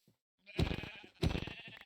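Sheep in the video game Minecraft bleating twice in quick succession, clear close nasal baas standing alone against silence.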